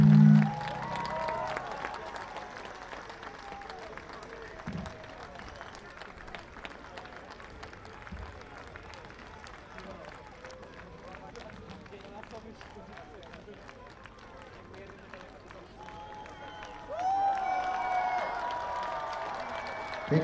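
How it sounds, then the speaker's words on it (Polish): Concert crowd at a show in Rytel, 2018, applauds Maurycy with sparse, distant clapping that stays faint and steady, with voices murmuring throughout and a brief louder swell near the end. "Brawa dla Maurycy."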